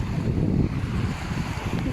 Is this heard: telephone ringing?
no